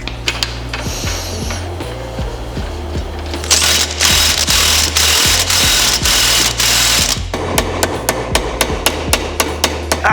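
Axle nuts on a Porsche 2.5 RS wheel being run down with an impact tool: loud rapid rattling hammer bursts, a sustained buzzing run in the middle, then sharp repeated clicks, close and without talk.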